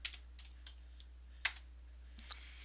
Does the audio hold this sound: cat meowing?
no